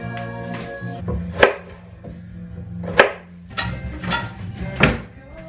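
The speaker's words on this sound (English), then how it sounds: "Slice thin, like about half a centimeter." A serrated knife slices yams thin on a board in several separate strokes, each with a short crisp crunch, close and fairly loud.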